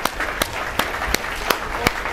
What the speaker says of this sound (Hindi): क्लैप कर दो भैया इन बच्चों के लिए